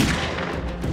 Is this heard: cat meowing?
no